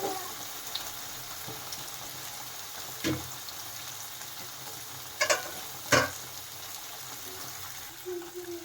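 Vegetable tikki patties frying in a pan for homemade burgers, a soft, quiet sizzle running throughout with a few sharp scraping clicks from a turner as they are flipped.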